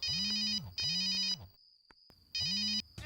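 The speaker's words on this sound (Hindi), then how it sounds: "फोन करता हूँ मैं।" A phone ringtone plays in repeated electronic bursts, two rings then a pause and a third, loud and close, with no talking over it.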